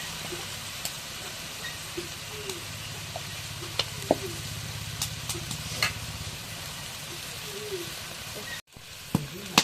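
Cumin powder hits a hot frying pan, giving a steady broadband sizzle with faint scraping stirs, close and continuous, ending in a brief cut.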